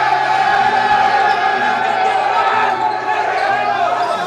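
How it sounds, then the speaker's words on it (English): A large crowd at a high school basketball game between Lansing and Highland Park, a steady loud roar of voices and cheering with basketballs bouncing rhythmically underneath. "There's a great crowd here from Lansing, and we've got a great crowd over here from Highland Park as well"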